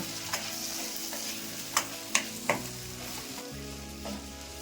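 Turmeric and Kashmiri chilli powder frying in a pan for brinjal chutney, a soft steady sizzle broken by a few sharp spoon taps and scrapes against the pan, quiet and near with no talking.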